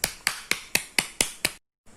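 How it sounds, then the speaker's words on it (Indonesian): A class in an Indonesian micro-teaching lesson claps in unison, giving seven sharp, evenly spaced claps in quick rhythm, then a short silence and a faint trailing sound. "tepuk tangan dulu untuk semuanya"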